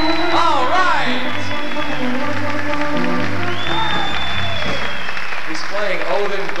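Audience applause rings out at a 1980 polka concert at Irem Temple in Wilkes-Barre, Pennsylvania, loud and sustained for several seconds, mixed with band sounds and voices in a large hall.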